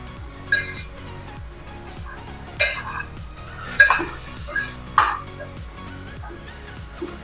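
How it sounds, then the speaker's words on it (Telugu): Metal clinks and knocks of a lid and utensils against a cooking pot while preparing an Andhra-style moong dal and radish curry; several sharp, close clanks spaced irregularly over a low kitchen background. "కొంచెం కాస్త మూత పెడదామండి"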